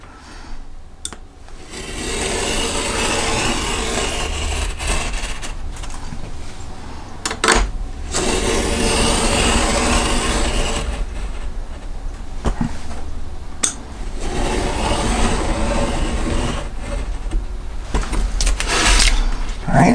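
A knife is drawn along a straight edge through leather for a tripod camp stool, making long, loud rasping strokes broken by sharp clicks and knocks as the blade and ruler shift.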